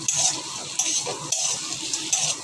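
A pan of bitter gourd and pumpkin coated in poppy seed paste is stirred over a low flame, giving a steady close sizzle with repeated scraping strokes of a spatula roughly every half second.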